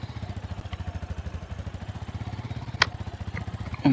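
A motorcycle engine in the Minecraft video game runs with a steady, rapid low-pitched putter pulsing throughout, with one brief sharp click near the end.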